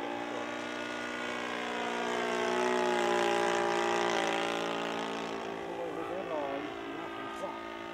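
Small engine of a 1:6 scale model Fieseler Fi 156 Storch aircraft, a steady droning buzz that rises and falls slightly in pitch, with people talking over it.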